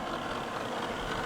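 A steady, low, continuous hum comes from an EcoAir DD122 dehumidifier as its fan wheel turns with a bit of corrugated cardboard rubbing in it. The whir is close but fairly quiet, and no one speaks.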